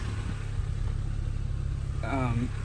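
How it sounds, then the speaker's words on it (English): A 1990 Daihatsu Sportrak Feroza EL engine idles steadily with a low hum, and a voice speaks briefly near the end. "I'll actually just show you the engine that's running."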